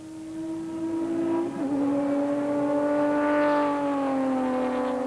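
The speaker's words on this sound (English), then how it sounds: "ad champion Duncan Voss and Ralph Pitchford, with the fire engine red Sasol Nissan Navara getting the jump, and it's a nose ahead from the off." A fire engine red Sasol Nissan Navara off-road race truck accelerates hard in the Magalies 400, its engine note climbing steadily through a loud, sustained pull with a brief gear change midway, no talk over it.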